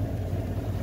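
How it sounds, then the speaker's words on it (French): A Sun Odyssey 35 sailboat motors toward an anchorage off Gruissan on its Volvo Penta engine, a steady low drone with wind and water hiss, heard alone and close. "on va finir le trajet jusqu'au mouillage au moteur"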